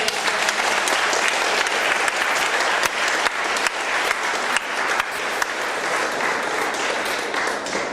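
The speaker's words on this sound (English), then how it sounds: "So a round of applause for Finole Sancir." An audience at a political event gives a sustained burst of applause, many hands clapping densely and evenly for the whole stretch, loud and close.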